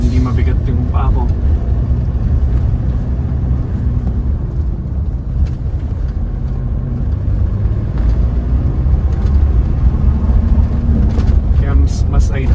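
Mitsubishi Montero Sport with a manual transmission driving uphill in traffic in Baguio City, with a loud, steady low engine drone throughout and brief higher noises near the end.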